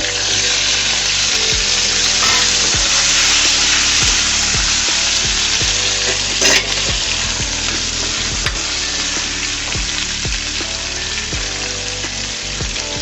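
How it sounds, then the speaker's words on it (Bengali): Potatoes fry in hot oil, a loud, steady sizzle that runs throughout, with rapid low crackling pops and an occasional louder spit, alone with no talk. "এই পর্যায়ে আলুগুলোকেও ভেজে নিব।"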